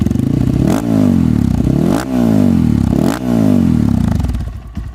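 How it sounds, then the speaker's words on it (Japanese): A Honda CRF150L motard's engine revs up repeatedly in rising sweeps, with a loud, rasping aftermarket exhaust between a few short pauses, close by. "そして排気音は今までよりちょっとうるさいですね。"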